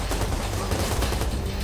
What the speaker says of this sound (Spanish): Juraría que me están disparando desde arriba.